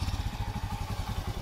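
A motorbike runs on a ploughed farm field in the morning, its engine putting out a close, steady, low throbbing rumble for the whole short stretch.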